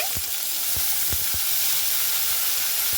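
Washed potato and pointed gourd pieces sizzle hard in very hot oil, a dense, bright frying hiss that stays loud and steady, punctuated by a few soft utensil knocks.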